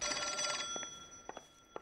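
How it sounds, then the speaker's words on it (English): Telephone ringing in the video game L.A. Noire: a loud, steady bell ring at first, which then stops, leaving a few faint clicks and taps. "I have the loudest phone in the world"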